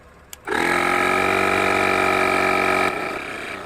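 An Autofy AIR+ car tyre inflator air pump clicks on and runs with a loud, steady, close mechanical buzzing drone for a few seconds, then cuts to a quieter hum.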